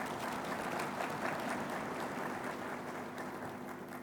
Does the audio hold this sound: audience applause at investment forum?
yes